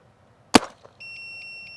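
An Empire Axe 2.0 paintball marker fires a single sharp, loud shot, a brief crack with a short tail, followed by a steady electronic beeping tone, likely from a chronograph.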